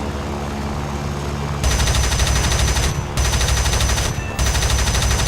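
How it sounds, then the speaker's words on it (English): Rapid bursts of MiG-3 aircraft cannon fire in War Thunder, two long loud volleys separated by brief pauses over a steady engine drone. "Let's see what those cannons can do."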